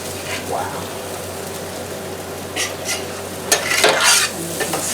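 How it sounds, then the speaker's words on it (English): Nachos topped with cooked vegetables sizzle on a flat top griddle, a continuous crackling hiss that swells with a few louder bursts of spattering near the end. "we're going to take the cooked veggies and spread them over top"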